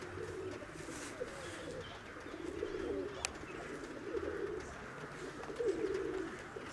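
Pigeons coo at a pigeon loft near a bridge, their soft, repeated burbling calls rising in several bursts over steady outdoor background noise, with no talking.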